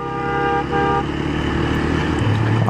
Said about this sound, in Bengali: আবার হর্ন মারে,